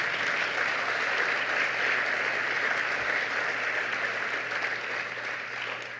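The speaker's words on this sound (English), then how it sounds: "Yes, let's give Len a round of applause" Audience applause at the ISF 2024 closing ceremony, a steady, fairly distant wash of clapping that holds evenly throughout and eases slightly near the end, with no talk over it.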